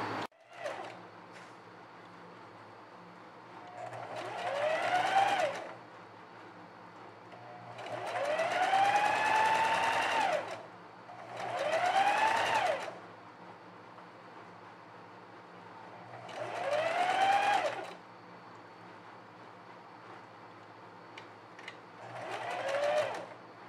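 A sewing machine stitches a ruffle onto a blouse top's strap seam in several loud bursts of whirring motor, each a few seconds long, separated by short pauses, close and alone.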